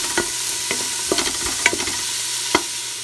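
Ground meat and golden onions sizzle in a pan for sweet Filipino spaghetti sauce, with steady frying hiss and several sharp spatula scrapes and taps, close up with no talking.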